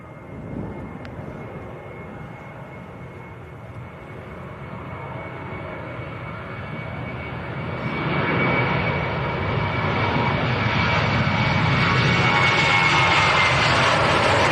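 A Jet2 Boeing 737-800 bound for Budapest takes off at Manchester Airport, its jet roar building steadily and growing louder and broader over the span as the aircraft rolls and climbs.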